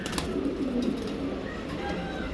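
Soft, low cooing from King pigeons, a few murmuring calls over a faint background hum, close by and fairly quiet, with no talking.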